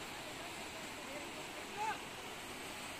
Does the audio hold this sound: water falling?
yes